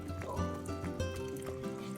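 Cooking water from boiled chicharron ingredients poured into salsa in a blender, a steady close trickle and splash lasting a couple of seconds with a faint background hum.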